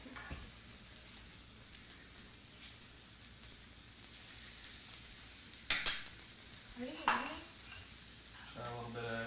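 Shrimp sizzling on a hot cooking surface, a quiet, steady crackling hiss that runs throughout, with a few sharp clatters near the end.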